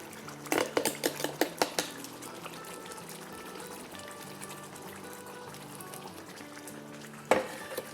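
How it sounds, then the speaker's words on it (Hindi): Soya keema is stirred in a pan; a spoon scrapes and clinks against the metal several times in quick succession, then the cooking settles to a soft, quiet sizzle. "इसको अच्छे से मिक्स कर लेंगे।"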